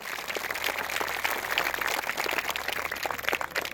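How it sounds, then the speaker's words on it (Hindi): A school audience at a commando defence academy ceremony in a rural village applauds steadily and densely for a respected teacher, with a sustained wash of clapping and no talk over it. "एक बार सर के लिए जोरदार तालियां।"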